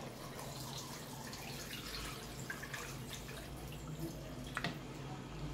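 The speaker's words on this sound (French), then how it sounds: "Maintenant, je vais rajouter de l'eau." Water poured into a cooking pot over pieces of beef being stewed for a Cameroonian ndolé with plantain, a steady splashing and trickling pour, close and continuous, with a faint clink near the end.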